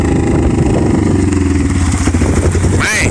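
Engine of a 2016 Polaris Sportsman 570 ATV, running loud and close with a steady mid-pitched drone and some clatter, briefly shifting in tone near the end.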